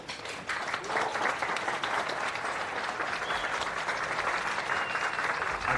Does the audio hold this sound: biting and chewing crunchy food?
no